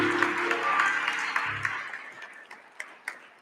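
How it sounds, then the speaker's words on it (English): Crowd applause at a spring university commencement ceremony, a broad wash of clapping that tapers off to a few scattered claps near the end. "I'd like you all to give him a round of applause and give him a warm welcome to New Jersey."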